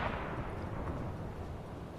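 Submarine deck gun firing an armor-piercing shell in the game Uboat, a single muffled boom with a broad rumbling tail, distant and heavy, no voices.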